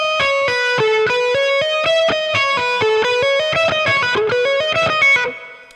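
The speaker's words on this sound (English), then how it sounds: "And just picking the first note of each string and then hammer on and pull off when it's needed." Electric guitar with distortion and reverb plays a fast run of picked notes joined by hammer-ons and pull-offs, each note ringing bright and sustained, loud and alone before fading out at the end.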